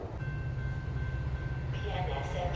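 Commuter train rolling into a station, a low continuous rumble with a thin steady whine, fairly faint, while a voice announcement plays over it toward the end.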